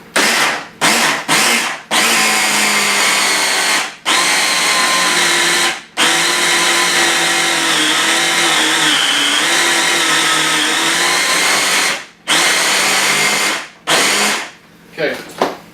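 A food processor whirs loudly and steadily as it mixes a thick, lumpy keto bread batter with egg yolks, the motor running in long bursts broken by a few short stops and restarts.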